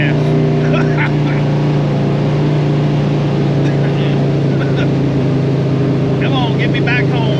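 A Ford F100 truck engine runs steadily and loudly with a constant drone, close by while low on fuel, as someone talks briefly over it.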